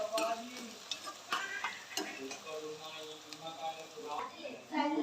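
Mutton frying in a pan for a Telangana-style curry, with crackling sizzle and intermittent stirring scrapes and clinks, close up and fairly quiet, with a voice speaking over it.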